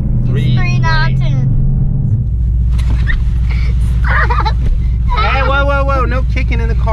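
Steady low rumble inside a moving car, continuous under the whole stretch while people talk and chat from the cabin throughout.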